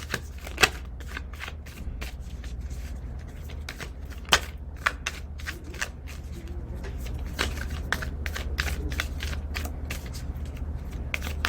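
Tarot cards shuffled close by, a steady riffling rustle punctuated by sharp slaps and taps of the deck, with no talking.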